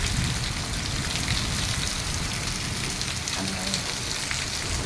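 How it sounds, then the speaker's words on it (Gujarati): Heavy rain with strong wind pours down steadily, a loud broadband wash of drops hitting surfaces that holds unbroken throughout, with no voices heard. "જોઈ શકો છો કે વરસાદ છે એકદમ"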